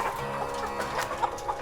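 A chicken clucks softly in a handful of short, close calls over a steady background hum, in a setting where birds are picked for slaughter.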